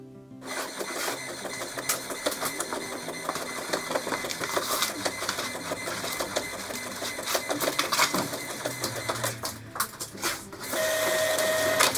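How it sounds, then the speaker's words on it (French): Printer running through a form sheet, its feed mechanism clattering and whirring steadily for the whole stretch with rapid ticking, closing on a smoother sustained motor hum, all close and with no voices. "je vais l'imprimer également pour la ranger dans le dossier dont j'ai besoin"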